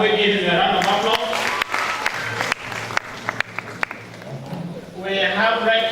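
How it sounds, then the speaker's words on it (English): Audience applause at a ceremony, scattered clapping and a few sharp individual claps in the middle, while someone speaks over it at the start and end. "Can we give a round of applause?"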